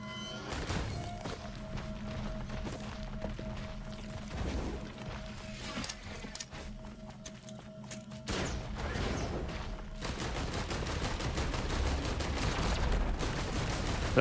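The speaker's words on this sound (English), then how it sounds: "A gun turret there." Rapid gunfire from a gun turret in a video game, a dense steady barrage of shots with mechanical clatter that shifts and grows heavier partway through, continuing without pause.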